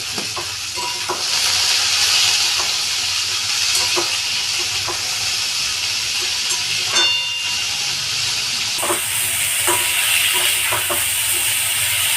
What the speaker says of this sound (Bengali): আলু পেঁয়াজ একসাথে ভাজছি।